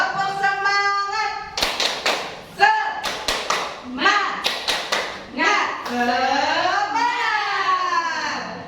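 Adult teachers in a classroom workshop perform the rhythmic 'tepuk semangat' clapping chant, with sharp group claps in quick patterned bursts alternating with chanted voices, close and loud.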